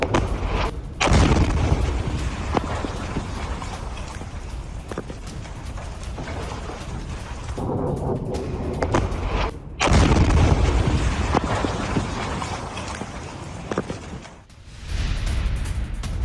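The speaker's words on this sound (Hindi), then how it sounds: "और फिर होता है कितना बड़ा धमाका" A huge missile explosion booms out with a sharp blast, followed by a long, heavy rumble that cuts off briefly and swells again, with no voices.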